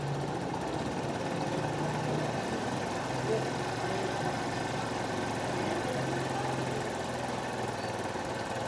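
A motorcycle engine runs steadily at idle while its carburetor mixture screw is adjusted. A constant low mechanical hum and drone holds evenly throughout at moderate, fairly close volume.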